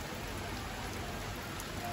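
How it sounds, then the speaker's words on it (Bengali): Steady afternoon rain falls on rooftops, heard from indoors by a window: a dense, even hiss of drops that holds constant throughout, with no voices. "দুপুর টাইমের বৃষ্টি"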